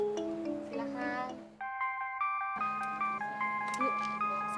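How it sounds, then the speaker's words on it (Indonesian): A bright electronic phone ringtone melody plays steadily in an Indonesian soap-opera clinic scene, starting after a short stretch of a voice and continuing loud and unbroken to the end. "sebentar saya ngangkat telepon dari Kang Mas Sultan dulu ya"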